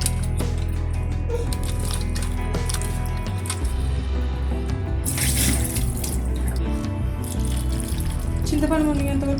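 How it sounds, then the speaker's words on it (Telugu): Water pours from a tap over tamarind in a bowl to soak it, a continuous close splashing stream with gurgling and shifting tone as the bowl fills. "చింతపండు మునిగేంత వరకు వాటర్ పోసుకొని"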